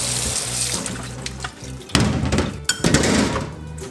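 Boiled fish stomach rinsed under a running kitchen tap, the water pouring steadily and close with a couple of dull thunks partway through, no talking.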